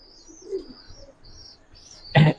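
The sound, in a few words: pigeons cooing at a pigeon farm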